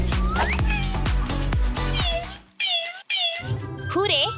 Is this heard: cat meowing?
yes